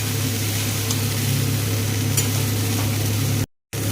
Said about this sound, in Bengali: নুন দিয়ে দিয়েছি, এবার এটাকে ভালো করে ভাজবো।